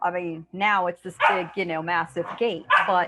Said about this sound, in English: pardon my dogs who are very into the conversation today